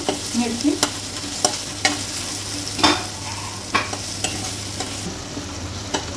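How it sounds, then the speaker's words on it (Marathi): Onion and green chili paste with ginger and garlic sizzles steadily in a pan, while a spoon scrapes and taps against the pan in regular strokes, close up and with no talking. "मिरची पण छान फ्राय झालेली आहे। सतत हलवायची आहे, मिरची जळाली नाही पाहिजे।"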